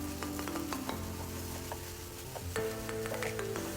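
Mango sheera being stirred with cardamom powder in a pan, a continuous soft sizzle with repeated scraping and light clinks of the spoon against the metal, close and steady with no voices.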